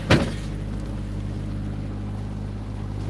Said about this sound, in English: In fact, oh, you turn the engine off.